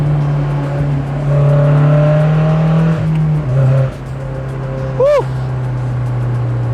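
A Honda S2000 sports car's engine drones loudly from inside the cabin, holding a steady note, then briefly dipping and revving up again as the car accelerates, with a short shouted voice near the end.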